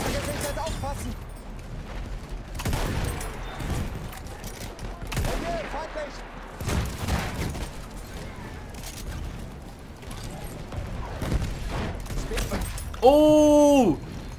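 Gunfire and explosions from a Battlefield 1 scout sniping match, rapid bursts and single cracks throughout, ending with a tonal in-game alert sound; a player talks over the action.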